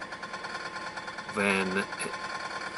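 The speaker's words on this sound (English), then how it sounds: "this metallic sound. It is when this heat shield is moving" A car idles at about 1050 rpm while a loose heat shield buzzes with a faint, continuous metallic rattle under the engine hum, and a voice briefly speaks over it.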